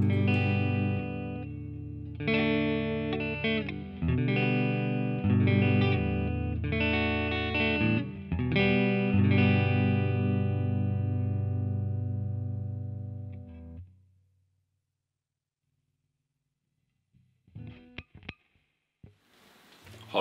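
Clean electric guitar through an Electro-Harmonix Hot Wax pedal, amp on clean with bass, treble and mids at noon, playing chords and single notes with a light reverb tail, steady and fairly loud, then fading into near silence with a few faint knocks.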